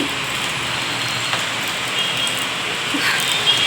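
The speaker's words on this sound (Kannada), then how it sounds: "ಚೆನ್ನಾಗಿ ಮಳೆ ಬರ್ತಾ ಇದೆ ನೋಡಿ" Steady, even hiss of rainfall, moderately loud and continuous, with no voices.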